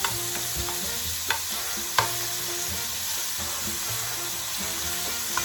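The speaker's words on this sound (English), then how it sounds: "Right now we're going to add our ham to our oil." Ham frying in olive oil in a pan, a steady close sizzle with faint stirring clinks and a few sharp utensil taps, no voices.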